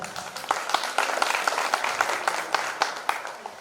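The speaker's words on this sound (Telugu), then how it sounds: "Big claps." A room of former classmates at a school batch reunion claps together, a steady patter of many hands with sharper individual claps standing out, moderately close and continuous throughout.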